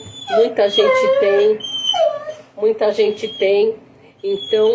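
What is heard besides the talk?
labrador dog whimpering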